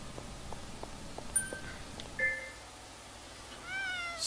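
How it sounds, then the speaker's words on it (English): Several short meows from a cat in the video game Gravity Rush 2 ring out in an otherwise quiet scene with faint clicks, ending in a longer, rising meow. "Oh, meow. It's coming from in here."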